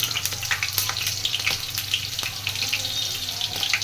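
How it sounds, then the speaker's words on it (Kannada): Mustard seeds and cumin crackle and sputter in hot oil in a home kitchen, a dense, steady frying sizzle with sharp pops scattered throughout, close and fairly loud with no talking. "ಎಣ್ಣೆ ಕಾದತ್ರಿ ಅದಕ್ಕೆ ಸಾಸಿವೆ ಜೀರಿಗೆ ಹಾಕೇನಿ ರೀ"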